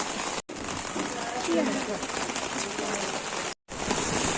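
Heavy rain pours outside in a steady, dense hiss, loud and continuous with two short dropouts, while faint voices sit underneath.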